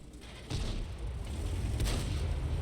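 A tank gun fires in World of Tanks, a single heavy boom at about half a second followed by a deep, sustained low rumble with no voices.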